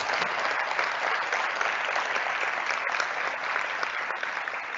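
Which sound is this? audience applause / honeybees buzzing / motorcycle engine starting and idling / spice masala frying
audience applause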